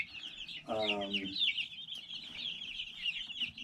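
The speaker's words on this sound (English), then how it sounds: "These other birds, some are barred rocks, some are Easter eggers, some are lavender orpingtons." Backyard chickens, a mix of barred rocks, Easter eggers and lavender orpingtons, clucking and squawking nearby, with one louder drawn-out call early on over a steady chatter of the flock.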